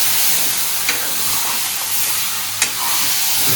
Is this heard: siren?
no